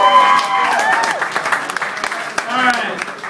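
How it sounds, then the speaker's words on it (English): A comedy roast audience claps and cheers in a mixed, uneven burst, with voices and whoops rising over the clapping, close and moderately loud. "Everybody give them a round of applause."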